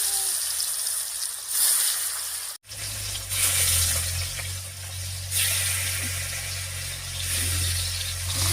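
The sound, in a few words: fish frying in mustard oil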